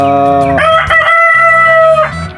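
A Rhode Island Red and native crossbreed rooster crows loudly and close by, one long drawn-out cock-a-doodle-doo, with clucking chickens before and after it.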